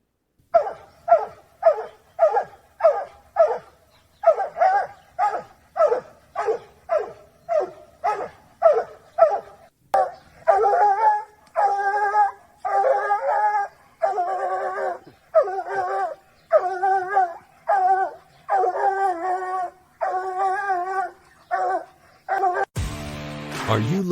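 A coonhound bays and barks over and over in a steady rhythm. The early barks are sharp and evenly spaced; later they stretch into longer, drawn-out bawling howls. The dog is loud and close, and nobody speaks.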